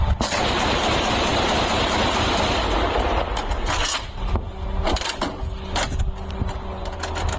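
An anti-aircraft gun fires rapid automatic bursts, rattling continuously for several seconds, then breaking into shorter bursts and scattered shots, loud and close with mechanical clanking.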